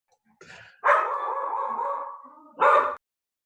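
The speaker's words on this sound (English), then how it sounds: "I have a dog" A dog gives a short yip, then a drawn-out whining howl, and ends with one more sharp bark, close and fairly quiet with no other sounds around it.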